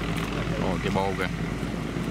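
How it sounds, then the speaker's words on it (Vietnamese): A steel cargo barge carrying scrap metal chugs past with a broken exhaust, a constant, heavy low rumble from nearby, partly under a person talking. "quá trời cái tiếng bô gãy ghê vậy"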